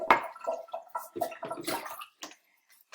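Distilled water poured from a measuring cup to rinse a surface: splashy bursts of pouring and trickling water, several short gushes close by, fading to near silence at the end.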